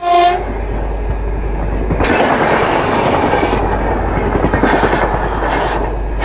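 Bhopal Shatabdi passenger train rushing past on the adjacent track beside the Swarna Jayanti Express, a loud, sustained roar of rail wagons with rhythmic clatter, with a train horn sounding briefly at the start and again near the end.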